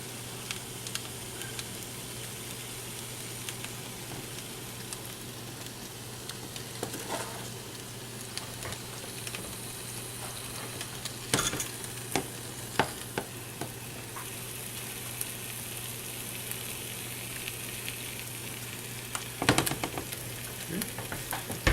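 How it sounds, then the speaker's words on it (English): Chicken sizzles steadily in a hot frying pan, a constant crackling hiss with occasional sharp pops and stirring scrapes, no voices. "Starting to sizzle."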